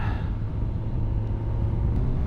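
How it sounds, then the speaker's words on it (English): A car on a winding mountain road with hairpin bends gives a steady low engine rumble and road noise, moderately close, with no talking. "Car coming."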